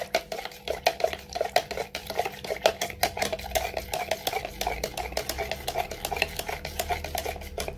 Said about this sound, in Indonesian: Kita aduk, pastikan itu nggak ada yang menggumpal.